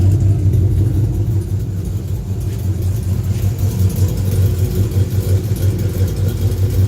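Loud, deep rumbling exhaust from a Ram R/T truck with its exhaust cutout valve open, a steady throaty drone with slight pulsing, close by and unbroken throughout.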